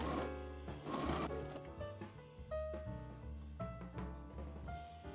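A sewing machine runs along the curved top edge of dress back panels, its close, steady whirring stitches changing pitch in short stretches as the speed shifts.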